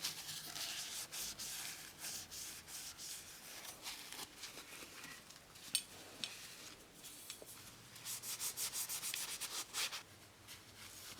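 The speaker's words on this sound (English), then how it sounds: "So I've got just Johnson paste wax that I'm going to coat everything in." Johnson paste wax is rubbed by hand over the metal parts of an E. C. Stearns & Co. No. 13 plane, giving a soft, steady scrubbing swish in quiet strokes, close and faint, with no talking.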